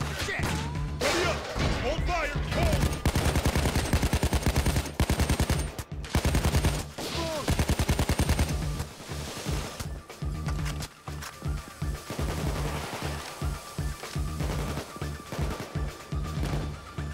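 Gunfire in a shootout in the video game Payday 2, with loud, dense bursts of rapid automatic shots and crashing impacts that carry on throughout, mixed with game voices talking over the action.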